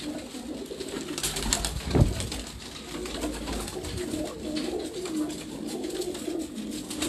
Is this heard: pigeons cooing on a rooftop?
yes